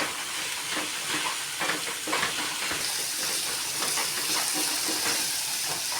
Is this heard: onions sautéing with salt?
yes